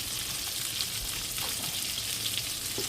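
Conecuh smoked sausages cook in a covered pan beside mashed potatoes and sautéed squash, giving a soft, steady sizzle with faint crackles and no talking.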